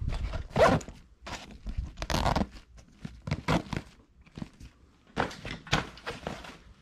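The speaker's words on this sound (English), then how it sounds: "Got your two-way zipper." A two-way zipper on a medium Savotta vertical pouch is run back and forth in several quick, close rasping pulls, separated by soft handling thumps and fabric rustle.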